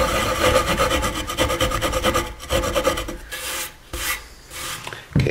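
Rhythmic rasping strokes of a hand rasp or sanding on the wooden heel of an electric guitar under construction, close and continuous with brief pauses, no talk.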